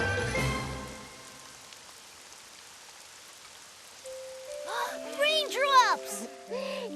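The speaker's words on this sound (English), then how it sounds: "I like the sound of raindrops too" Light rain patters softly and steadily on a surface, preceded by a brief burst of voices and followed by bright, chiming musical tones that rise near the end.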